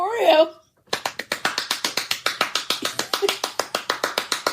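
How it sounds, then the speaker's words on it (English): Rapid, steady claps right beside the microphone, about four or five per second, loud and close, following a brief burst of speech at the start. "Dude, are you clapping next to the mic?"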